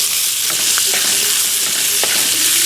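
Chicken pieces in garlic-powder seasoning are rolled around a hot pan with a wooden spatula, giving a steady close sizzle of frying broken by a few soft scraping and tapping touches.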